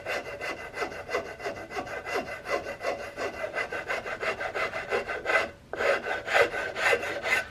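A file works a wooden CVA Hawken rifle stock at the wrist, smoothing and rounding it with steady, rhythmic rasping strokes, close and loud, with one brief pause before the strokes resume.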